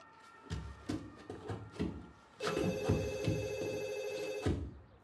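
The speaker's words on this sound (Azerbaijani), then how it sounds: "Telefon." A telephone rings in an office scene: after several muffled thumps and knocks, a sustained bright electric bell ring sounds loudly for about two seconds, then cuts off abruptly.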